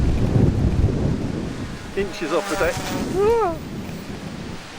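Strong gusting wind buffets the microphone across an open field, a loud steady roar with surging gusts, while someone talks briefly over it.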